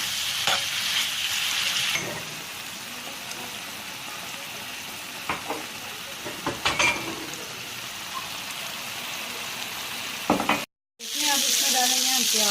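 Chicken with a spoonful of chili sauce fries in a pan, giving a steady close sizzle broken by a few louder spatters and a brief cut near the end.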